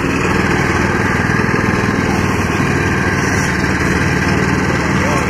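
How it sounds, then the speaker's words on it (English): A small Yamaha motor at an old power equipment auction runs steadily at a constant, buzzing drone, close and loud with no change in pace throughout. "That's what the motor of my Yamaha sounds like."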